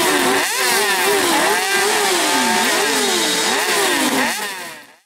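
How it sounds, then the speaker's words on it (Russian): A column of more than fifty motorcycles rides through town streets at the opening of a biker season, loud engines revving and rising and falling in pitch close by, fading out at the end. "Не всегда увидишь колонну из более полусотни байков на улицах города"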